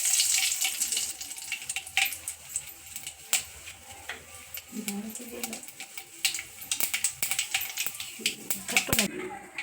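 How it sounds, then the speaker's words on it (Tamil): Mustard seeds splutter in hot oil for mutton rasam, giving scattered sharp pops and crackles at irregular intervals, with a steady hiss underneath and brief clinks of a utensil. "கடுகு நல்லா பொரிஞ்சிச்சுங்க"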